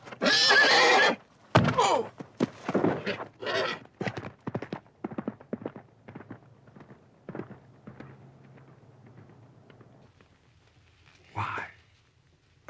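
A horse whinnies loudly, then hooves clop in an uneven series of sharp knocks that slow and fade, ending with a softer snort.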